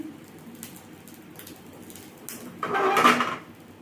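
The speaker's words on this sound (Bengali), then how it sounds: "ছোটো ছোটো করে বড়াগুলো ছেড়ে দিচ্ছি" Small mashed matar dal fritters, seasoned with green chilli and salt, dropped into a cooking pot for a village-style jhol bora sukto, giving a short burst of sizzle and splatter near the end of a quiet stretch.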